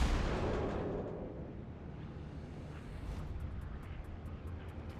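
Naval guns fire from a warship in World of Warships: one heavy boom at the start fades into a long, distant rumbling roar that lingers throughout.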